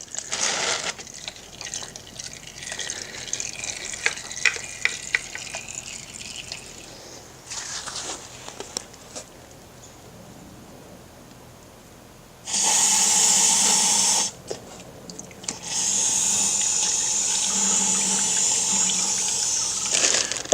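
Hydraulic oil draining from a Hustler Trimstar mower during a hydro oil and filter change, with a steady trickle and drip at first, then louder rushing liquid pouring in two sustained bursts near the end.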